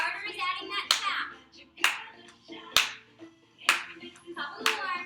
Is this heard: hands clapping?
yes